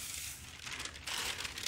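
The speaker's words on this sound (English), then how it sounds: "I'm going to go ahead and peel this off." Fruit leather being peeled off a drying tray, a steady crinkling, tearing rustle that runs close and continuous, growing slightly louder near the end.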